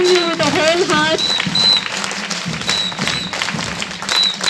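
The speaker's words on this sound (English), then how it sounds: "A big round of applause to welcome our Secretary, sir." An audience at a student festival event applauds to welcome a Secretary. Clapping runs under a voice and whistle-like tones near the start, with rhythmic thumps underneath, at moderate loudness.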